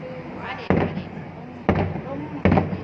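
New Year's Eve fireworks over Ninh Kieu in Can Tho exploding in three sharp, distant booms spaced irregularly, with a crowd chattering and talking underneath.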